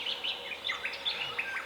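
Rapid high chirps from a rivaling pair of grey thrushes, quick thin calls overlapping one another at a moderate distance over a steady outdoor hiss.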